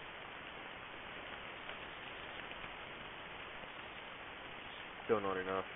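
Rain falls in the video game DayZ, a steady, soft hiss that continues evenly, with someone speaking briefly near the end.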